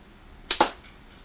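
A slingshot is shot twice in quick succession, giving two sharp snapping releases about a tenth of a second apart, close and fairly loud over a quiet background.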